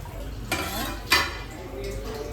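Cooked rice for paneer pulao is tipped into a pan, with a couple of sharp clatters of a utensil against the metal and soft scraping and stirring in between, close and moderately quiet.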